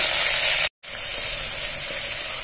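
Green chillies and spices fry in oil over a low flame, giving a steady, close sizzling hiss that cuts out for a split second and then carries on evenly.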